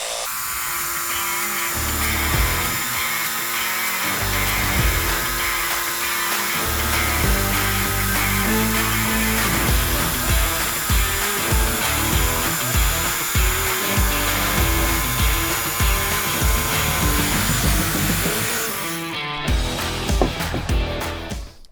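A Metabo cordless jigsaw with a coarse fast-cut blade and pendulum setting two cuts steadily through an oak board, a loud continuous buzzing rasp with pulsing strokes that runs for about twenty seconds before stopping.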